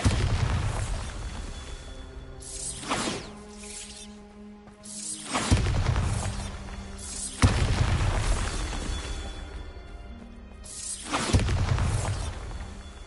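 Bombarda exploding spells in Hogwarts Legacy, several loud booming blasts a few seconds apart, each with a sharp onset, shattering debris and a rumbling tail.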